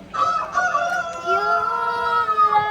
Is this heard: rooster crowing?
yes